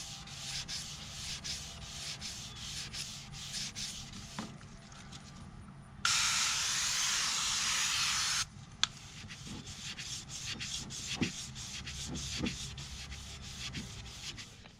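Rhythmic scraping strokes of hand sanding repeat steadily up close, interrupted by a few seconds of loud hissing spray in the middle.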